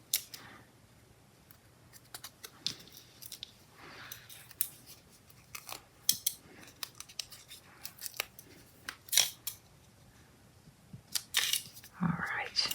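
Scissors snip out a small paper tag in a quiet craft setting, with irregular crisp cuts scattered across the clip and brief soft rustles between them, and a faint low voice now and then.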